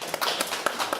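Congregation clapping in a church: a short, brisk burst of several overlapping hand claps lasting about a second.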